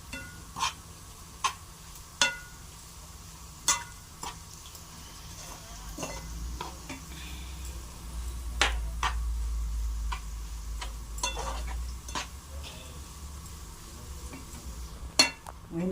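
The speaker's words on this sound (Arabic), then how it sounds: "وكل ده هنقلبه كويس كده" A spoon stirs a batter of flour, baking powder, eggs and spices for an Egyptian baked eggah in a bowl, giving light, irregular clinks and taps against the bowl over a quiet, steady background.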